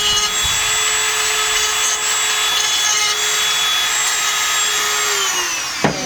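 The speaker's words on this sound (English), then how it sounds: "now we're going to file it down with a Dremel tool just a little bit to make it smooth" A Dremel rotary tool smooths the cut end of an alphorn pipe, a steady high-pitched whine running continuously and fairly loud close up, winding down just before the end.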